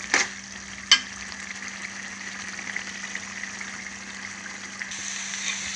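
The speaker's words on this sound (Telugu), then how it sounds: "చూసారు కదా, మనకి ఎలాగా ఫ్రై అయిపోయిందో ఇలాగా బాగా ఫ్రై అయిపోవాలండి" Curry frying in hot oil, with a steady, close sizzle running throughout and a couple of sharp clinks of stirring near the start.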